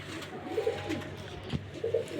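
Pigeons coo softly in a loft, giving a couple of low calls over a faint background hum.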